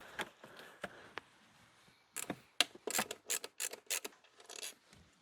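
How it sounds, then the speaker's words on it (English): Screws are backed out of the throttle body on a Mini Cooper S R53 supercharger, a faint close series of short metallic clicks and scrapes that turn into rapid ratchet-like bursts. "And now we are going to remove the screws that attach it to the throttle body"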